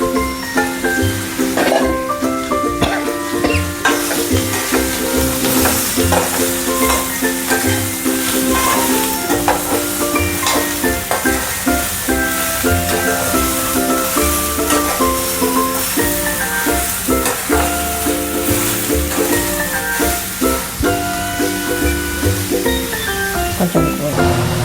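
Ridge gourd fries in oil while pachadi is being made, a constant loud sizzle and crackle with stirring underneath, lasting about twenty-five seconds.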